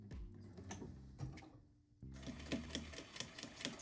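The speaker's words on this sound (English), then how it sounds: "we're just gonna stitch as close to the zipper as possible" Domestic sewing machine with a zipper foot stitching close along a zipper on a small fabric pouch, a steady rapid mechanical whir with rhythmic needle clatter, briefly pausing before resuming louder and close up.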